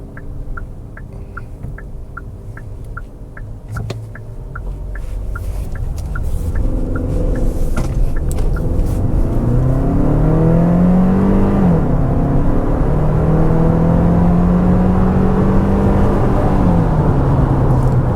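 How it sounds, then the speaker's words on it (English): A 2026 Hyundai Palisade Hybrid three-row SUV with electric motors accelerates, its engine and drivetrain building from a low rumble into a loud, steady rising whir with gear-like pitch shifts, heard from inside the cabin. "This thing moves for a 3-row SUV like this."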